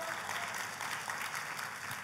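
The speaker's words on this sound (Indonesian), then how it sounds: "Tepuk tangannya boleh paling meriah buat Tuhan kita" A church congregation applauds in praise of God, a continuous wash of clapping at moderate level that stays even throughout without a clear start or finish.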